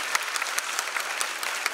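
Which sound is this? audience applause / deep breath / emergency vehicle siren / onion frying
audience applause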